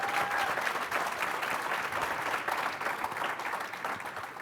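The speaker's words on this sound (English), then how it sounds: "So let's give Dell a round of applause for that." Audience applause follows a tribute to Dell Technologies at a tech industry panel, a steady, dense wash of clapping hands filling the room without a break, with no speech over it.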